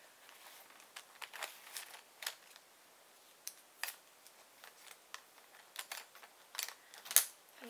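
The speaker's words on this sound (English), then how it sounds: "Boring, but it's actually just some pencil sounds like" Pencil scratching across writing paper while doing math homework, close and quiet, with soft irregular strokes and taps scattered across the whole stretch, no voices.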